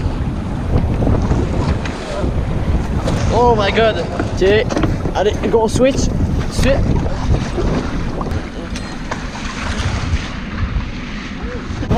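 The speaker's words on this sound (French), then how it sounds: "checkez-moi ça, les vagues" Waves rushing and slapping around a boat out at sea, a loud, continuous wash with heavy wind buffeting the microphone, and people exclaiming and talking over it.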